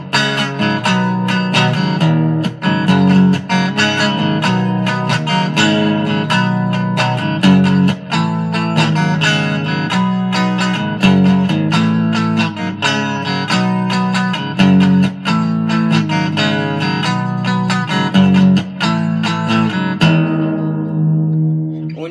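A guitar strums bar chords for a song in a steady, rhythmic pattern, loud and close throughout, with regular chord changes and a ringing fade at the end.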